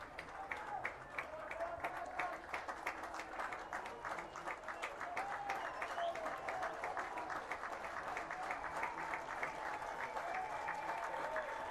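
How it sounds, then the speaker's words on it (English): Spectators at a high school baseball game between Don Bosco and Cranford keep up continuous clapping and crowd noise, with a faint commentator's voice running over it. "Cougars crowd making some noise."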